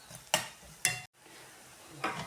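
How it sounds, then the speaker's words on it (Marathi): Drumstick-leaf vegetable being stirred with turmeric and salt in a pan over low heat, a few separate scraping stirs with a soft sizzle in between, close and clear with no talking. "मीठ टाकून छान मिक्स करून घ्यायचं"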